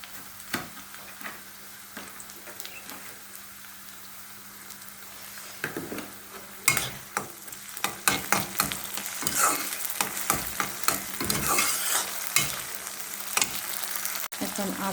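Onions frying in a pan with garlic paste, a low steady sizzle broken by repeated scraping stirs that grow busier and louder toward the end, up close and with no talking.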